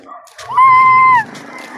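One sharp, tonal dog yelp or howl-like bark, held briefly and loud, with quiet background noise before and after.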